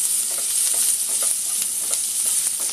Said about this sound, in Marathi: कांदा आपल्याला चांगलं परतायचं आहे.